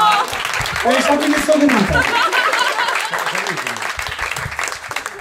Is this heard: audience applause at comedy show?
yes